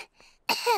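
A single short, harsh cough bursts out after a quiet moment, close and fairly loud.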